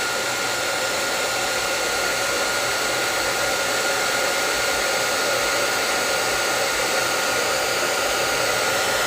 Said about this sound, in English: if you use a hairdryer to heat up your tape before you pull it, it really helps to not tear the paper